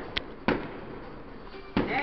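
Fireworks going off on New Year's: three sharp, fairly close bangs spaced unevenly over two seconds, each followed by a short decay.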